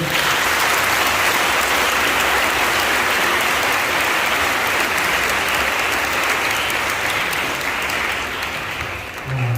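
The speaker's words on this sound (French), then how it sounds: "On va les acclamer." A church congregation at Sunday Mass in Port-Bouët bursts into loud, sustained applause that fills the room and tapers slightly toward the end.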